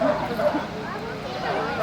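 A police dog barks and yips during an apprehension demonstration at a community night-out event, with excited, whimpering barks under loud, continuous shouting voices.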